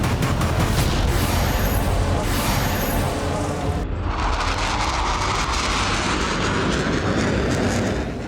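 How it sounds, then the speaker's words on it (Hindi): Russian Su-35S and Ukrainian MiG-29 fighter jets fly low in combat, firing missiles and releasing flares. A loud, continuous jet roar fills the whole passage, with a sharp shift in tone about halfway through, and no talk is heard. "दोनों ओर के फाइटर जेट एक दूसरे पर मिसाइलों से हमला करने लगे।"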